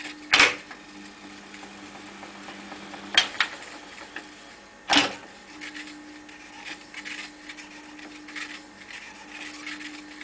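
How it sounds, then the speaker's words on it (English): Transport buttons on a Studer B67 reel-to-reel tape recorder being pressed: three sharp mechanical clicks spaced a few seconds apart, close up over a faint steady machine hum, with no talking. "The main tape functions are located in the centre of the row of buttons. Rewind, fast forward, play, stop and record."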